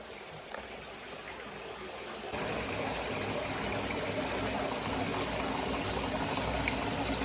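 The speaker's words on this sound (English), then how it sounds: "I just wanted to currently test it and see how the water flows." Water pours and trickles steadily through a cheap homemade aquarium sump with PVC pipe and relief holes, a continuous close splashing flow that grows louder and fuller after the first couple of seconds.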